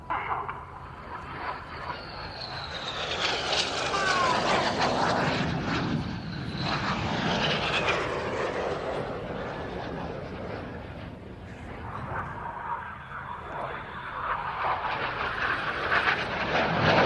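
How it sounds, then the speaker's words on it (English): Red Arrows RAF jets roar past low over the runway at RIAT Fairford on a synchro pass, a broad rushing drone that swells, dips and rises again as they close at speed. "They'll be closing at over 800 miles an hour, descending to just 100 feet above the runway here at Fairford to fly the synchro pass"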